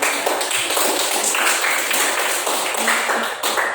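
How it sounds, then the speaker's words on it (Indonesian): A classroom of students claps together for a classmate who asked a good question, a loud, dense burst of handclaps sustained evenly throughout without talk. "Tepuk tangan dulu untuk penanyanya."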